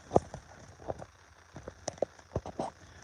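Rain falling at a stealth camp site, scattered drops tapping nearby surfaces in an irregular patter, fairly faint and close, with no talking.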